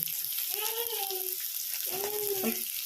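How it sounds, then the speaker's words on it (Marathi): Chopped onion fries in tempered oil for masala Maggi, giving a steady, close sizzle while a voice talks over it. "आता कांदा टाकला कांदा भाजून घ्यायचा आपण चांगला"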